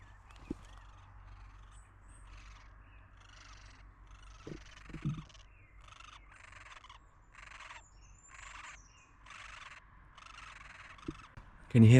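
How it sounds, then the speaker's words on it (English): Great spotted woodpecker chicks calling from a nest hole in a tree, a faint, repeated rasping chatter in short bursts over low traffic rumble outdoors, with a louder knock near the end. "my bet is great spotted woodpecker chicks in that hole"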